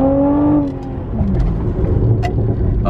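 A 2010 Acura TL engine revs in a cold start, with a rising tone early on, then a steady rumble and faint, sparse exhaust pops near the car.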